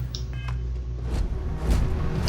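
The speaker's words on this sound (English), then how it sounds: "Phone buzz. I got a message from Durban." A short phone message notification in the game Starfield, a few faint electronic beeps and buzzes over a low background hum, brief and close, with no one speaking.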